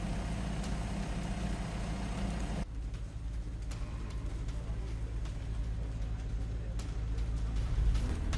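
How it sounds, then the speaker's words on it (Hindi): Heavy tractor engines rumble at a farmers' protest in France, a steady low drone that drops abruptly in level around three seconds in and carries on continuously. "प्रदर्शन में ट्रैक्टर भीषण।"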